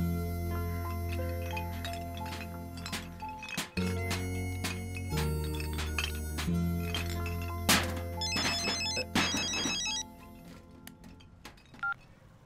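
Telephone rings in repeated electronic bursts over a background music score, with brief chirping tones mixed in and no talking.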